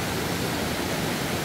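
A river in El Salvador flows with a steady, broad rushing wash, close and constant, and no voices or other sounds break through.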